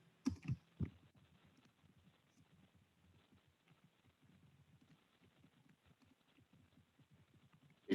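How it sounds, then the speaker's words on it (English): Faint, steady typing on a computer keyboard: a quick, irregular patter of soft key clicks running throughout, with a few sharper taps near the start and the end. "Just, type in, the question here."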